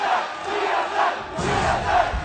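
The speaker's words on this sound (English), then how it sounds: "Conflicting chants from the crowd here in Game 5" Large esports arena crowd at the League of Championship Series summer playoff final between Cloud9 and Team SoloMid, chanting loudly and continuously in rhythmic swells, a dense roar of many voices filling the hall.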